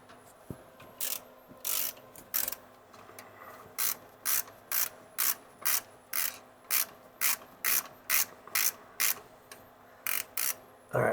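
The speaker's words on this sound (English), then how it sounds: "First, we need to loosen up the nut, which was already pretty loose." Ratchet loosening the fuel pressure adjustment nut during an LSA supercharger install on a square-body truck, with a close, steady run of regular clicking bursts, each stroke sharp and evenly spaced with brief pauses between.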